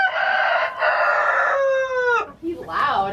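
A Buff Orpington rooster crows loudly and close by in one long harmonic crow that fades out, followed by a short clucking call.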